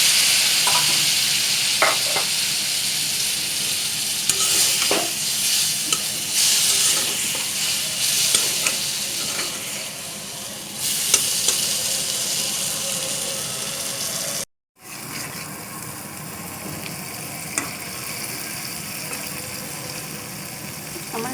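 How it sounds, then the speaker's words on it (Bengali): Cauliflower with spices and a splash of water stir-fried in a pan, a loud continuous sizzle with scraping stirs and occasional clicks, with almost no talking. "একটুখানি পানি দিয়ে মিষ্টিটাকে কষাই নেব"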